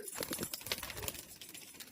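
Giribaz tumbler pigeons in a loft in Murshidabad give soft cooing murmurs and quick, rustling wing flaps, heard close up in short, uneven bursts without talk.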